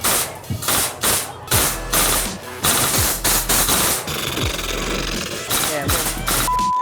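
An air rifle fires at a 4x6 index card target with a red star at a shooting game, giving a series of sharp cracks and thumps spaced a second or so apart amid loud background noise and voices.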